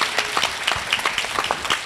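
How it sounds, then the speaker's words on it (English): Audience applause at a doctors' forum in Montgomery, a dense steady wash of many hands clapping close by, loud throughout the short stretch with no talk over it. "Let's give her a round of applause."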